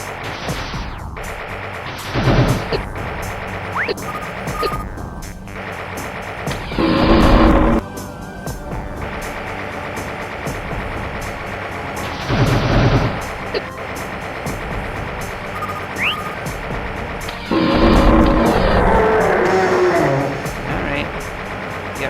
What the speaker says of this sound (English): Exploding. It's now destroyed for good.